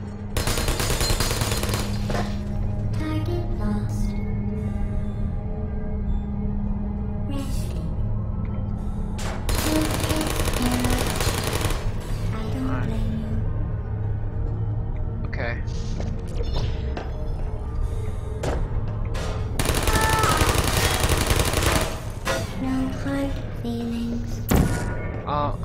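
Portal's automated turrets fire long, rapid machine-gun volleys in three main bursts, loud and dense, over a steady low game hum between volleys.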